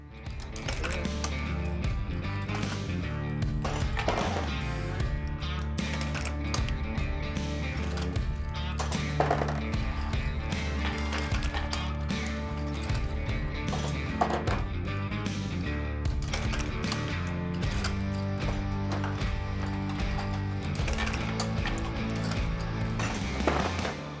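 A Dillon SL900 shotshell reloading press loading shotgun ammunition, with repeated mechanical clanks and clacks of the press strokes running steadily and loudly for the whole stretch, set over a dense, continuous background bed.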